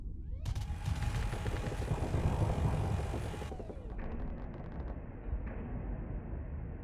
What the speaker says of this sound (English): Keep firing the big gun.